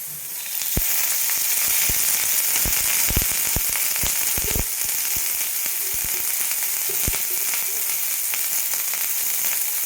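Onion being roasted in a little oil for a spicy mutton curry, giving a steady, loud sizzle with scattered sharp crackles and pops throughout, heard alone with no talking.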